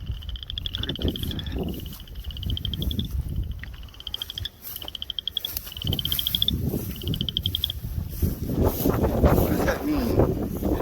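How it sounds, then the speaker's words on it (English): Crickets chirp outdoors on a spring evening, repeated short pulsing trills in regular bursts over low wind rumble and occasional movement noise, with a person speaking intermittently nearby. "Crickets are loud."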